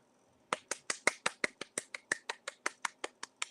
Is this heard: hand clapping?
yes